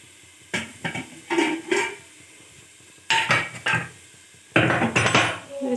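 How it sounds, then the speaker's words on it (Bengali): Metal clatters and clanks of a lid being set onto a cooking pot, in three separate bursts of rattling knocks with quiet gaps between. "আঁচটা কমিয়ে ঢাকা দিয়ে দিচ্ছি"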